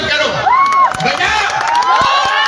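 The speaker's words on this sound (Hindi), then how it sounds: "तो ताली बजाने में कंजू से मत करो" Cheering and shouting from an audience at a live comedy show in Silchar, with whistles and whoops rising over a steady crowd roar, loud and continuous.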